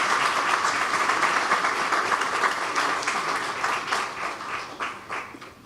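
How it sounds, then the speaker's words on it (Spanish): A lecture-hall audience at a labour-law code presentation gives a warm round of dense applause, loud and steady at first, then thinning and tapering off toward the end. "Recibamos con un fuerte aplauso al licenciado Efrén Sandoval Sanabria"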